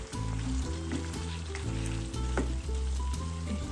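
Beef bhuna with chopped spices fries in its own released oil, with a loud, continuous sizzle and intermittent scraping of stirring in the pan.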